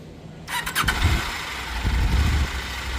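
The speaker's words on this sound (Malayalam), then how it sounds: "ഇത് ഹസ്ക്വറിനയുടെ 890 ആണ്. KTM 890യുടെ സെയിം എഞ്ചിൻ വെച്ചിട്ടുള്ള ബൈക്കാണ് കേട്ടോ" A Husqvarna 890 motorcycle, sharing the KTM 890 engine, cranks with a quick stuttering starter burst, then fires into a loud, close, rumbling idle that holds steady.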